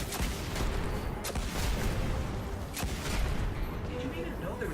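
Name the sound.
Scorch Cannon firing in the video game Destiny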